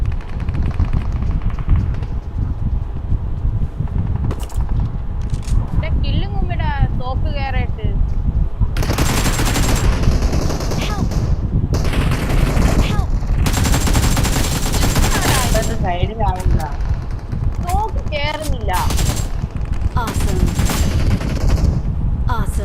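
Rapid bursts of video-game gunfire, loud and dense, with repeated volleys through a shooter match while voices talk over the shooting.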